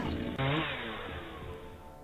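Chainsaw in The Last Stand 2 video game, a loud buzzing motor drone that surges sharply partway through and then holds steady before easing off slightly.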